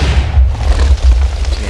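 A TNT block detonates in Minecraft as a loud, dense boom with a rough, crackling roar that fills the whole short moment, with no voices.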